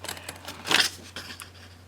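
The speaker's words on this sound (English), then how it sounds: "if you want, you can get your paper trimmer out, or just use your scissors" Scissors cutting paper while finishing a mini album, with a few close, brief snips and one louder crisp cut in the middle.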